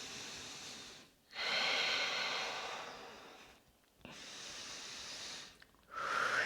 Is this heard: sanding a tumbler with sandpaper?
no